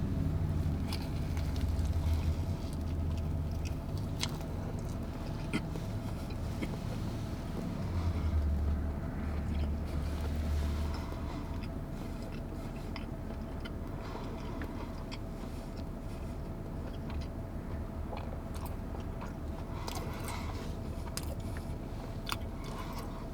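Someone biting into and chewing a glazed donut from Jolly Pirate Donuts, soft close chewing over a steady low rumble of engine or road noise throughout.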